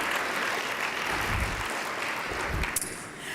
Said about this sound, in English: just want to give another round of applause for the wonderful fireside chat that just happened